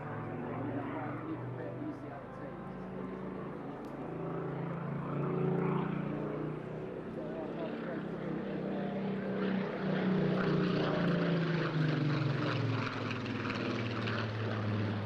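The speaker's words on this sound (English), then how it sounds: "The aircraft you see here in front of you today represents the pinnacle of Spitfire's development in terms of speed and altitude capability" A Spitfire propeller fighter flies past at an airshow, its engine drone building and shifting in pitch as it passes, loud and steady, while an announcer talks throughout.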